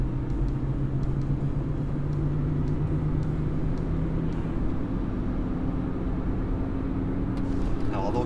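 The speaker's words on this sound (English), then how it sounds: "it's hard to tell whether it's got a wheel bearing bad or it's just the tires making all the noise" Steady tire road noise from winter tires on a used GM car, a continuous low rumble with a faint whine, heard from inside the cabin at moderate level with no talk.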